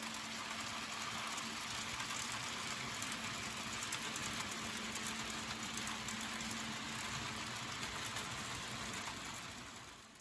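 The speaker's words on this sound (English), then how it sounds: "we have to wait for a couple of passing trains before we can continue up to the Scouts camp" Model railway trains running past on a layout, a steady broadband rumble and rolling noise with a faint hum, constant and fairly close throughout, fading slightly at the end.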